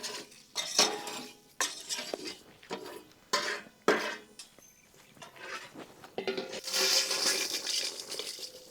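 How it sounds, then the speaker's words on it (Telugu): Whole spices, including cinnamon, mace and black peppercorns, dry-roasting in a pan for a Telugu curry leaf chicken fry masala, with repeated clattering stirs and scrapes of a spoon against the pan, loud and close with short pauses between. "వీటన్నింటిని చక్కగా రోస్ట్ చేసుకుందాం."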